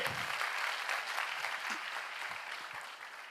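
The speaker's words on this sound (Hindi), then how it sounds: "ताली बनती है ना," An audience at a talk gives a steady wash of applause, many hands clapping together at even loudness for a few seconds, with no voices.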